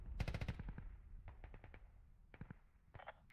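Automatic gunfire in the military video game Squad: a quick close burst of rapid shots, then scattered single and double cracks with a short trailing volley, no talk.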